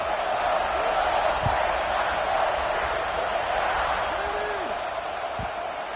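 Stadium crowd roaring at an American football kickoff, a loud sustained wash of cheering and noise throughout, with a few brief thuds and whoops rising out of it.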